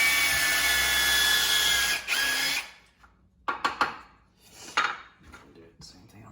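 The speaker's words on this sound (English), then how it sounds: "so that I don't drill into the countertop" A power drill whirs steadily into wood for a couple of seconds, then stops, followed by scattered clatter and handling noises nearby.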